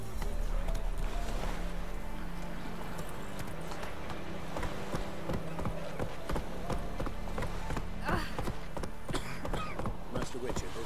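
Hooves of the horse Roach clip-clopping at a gallop in The Witcher 3: Wild Hunt, a steady rapid beat that runs throughout, layered with music and ambient game sound and a few sharp clatters.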